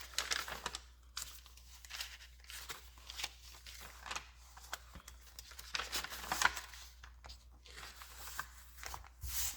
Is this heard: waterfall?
no